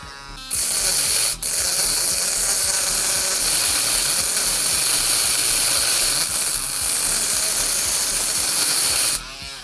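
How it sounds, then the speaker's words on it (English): A stripped metal screw has a flat-head slot cut into it with a power cutting tool, producing a loud, continuous, harsh grinding hiss at close range, with a brief pause early on before stopping. "cut into here and essentially cut that flat-headed screwdriver shape in"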